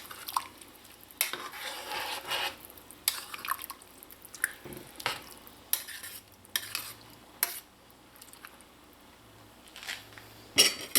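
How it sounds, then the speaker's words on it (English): Chicken pelau with coconut milk and rice is stirred in a pot, giving intermittent scraping and sloshing strokes over a faint background simmer, with no talking. "mix it."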